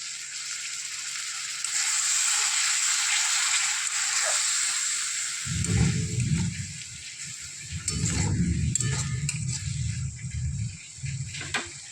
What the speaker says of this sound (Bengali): জলের সাথে 1 চা চামচ হলুদ গুঁড়ো, 1 চা চামচ ধনে গুঁড়ো, আর 1 চা চামচ জিরে গুঁড়ো